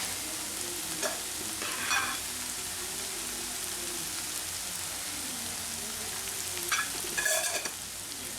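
Chillies sautéing in oil in a pan for a leek and potato gravy, a low steady sizzle with soft stirring scrapes around two seconds and again near seven seconds, close by with no talk.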